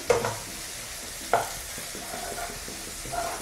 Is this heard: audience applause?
no